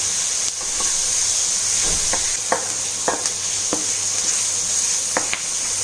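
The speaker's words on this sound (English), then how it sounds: "saute the onion and curry leaves together" Onion and curry leaves sautéing in a pan for a Mangalore-style prawn ghee roast, a steady sizzle and hiss with several sharp clicks of stirring against the pan, close and alone.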